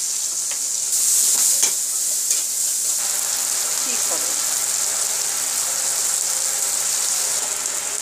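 Onions frying in a little oil hiss steadily and close up, a continuous sizzle with a few scrapes and knocks of stirring, louder near the start.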